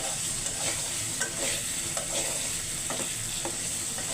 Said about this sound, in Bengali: আগে মাছটা কষিয়ে নিচ্ছি